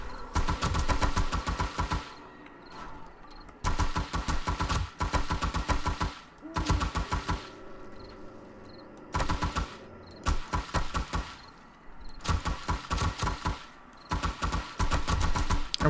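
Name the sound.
gunfire during horde night in 7 Days to Die video game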